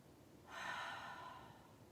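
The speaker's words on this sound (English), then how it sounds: "So nice full breath here." A long, full breath taken during a yoga class, a soft airy rush that swells and slowly fades over about a second and a half, close and fairly quiet with no talking.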